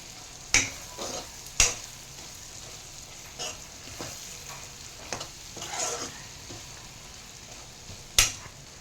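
Mutton kheema masala being stirred in a pan over low heat, with several sharp spoon scrapes and knocks against the pan spaced out over a faint, steady sizzle.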